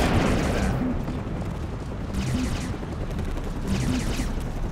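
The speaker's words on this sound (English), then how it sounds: "I'm shooting you! I'm shooting you!" Gunfire and explosions in the Family Guy: Back To The Multiverse video game, a dense, continuous barrage of shots with heavy booming underneath.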